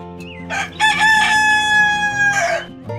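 A rooster crows once, loud and close, a long drawn-out call with a rising start and a fading end.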